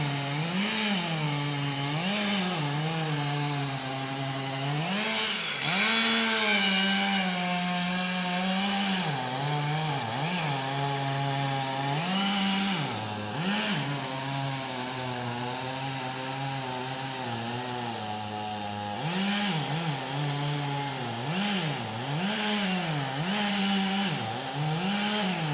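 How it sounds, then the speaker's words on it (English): Out in Loganville, a chainsaw cuts into a tree, its engine droning loud and close for a long stretch, revving up and dipping repeatedly as the blade bites into the wood, with no voices. "And here goes the chainsaw."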